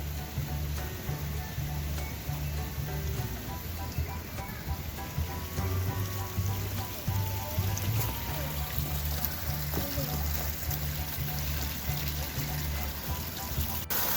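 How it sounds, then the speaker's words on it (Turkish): A park waterfall rushes and splashes continuously, a steady outdoor flow with a low rumbling hum underneath. "Su nasıl akıyor gördün mü Berkay?"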